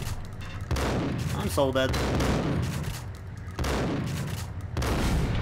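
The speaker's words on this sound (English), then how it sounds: "I'm shooting you over and over again" Heavy gunfire in the game Max Payne, loud sustained bursts with a short break, while a voice speaks briefly over the shooting.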